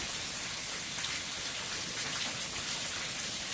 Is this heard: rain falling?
yes